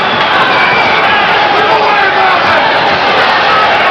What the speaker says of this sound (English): The crowd is yelling for a knockout.